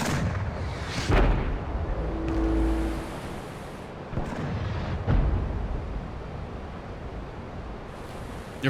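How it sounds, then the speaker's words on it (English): A mortar in the game Abiotic Factor fires heavy booming blasts, at least three deep thuds spaced a few seconds apart over a rumbling, continuous background, loud and close. "That's a mortar."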